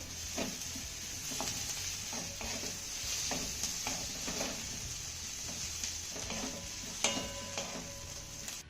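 Bitter gourd with plenty of finely chopped coriander being stirred in a pan, a soft steady scraping and gentle sizzle with light clinks of the spoon, close and continuous, with no voices.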